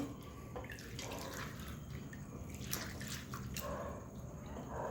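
Tap water running into a sink while lentils are swished, rubbed and rinsed by hand, quiet and close, with small splashes.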